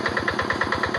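A Yanmar tractor engine on a Quick G600 chassis runs at a steady idle while harrowing a rice paddy, producing a close, loud, rapid rhythmic chugging.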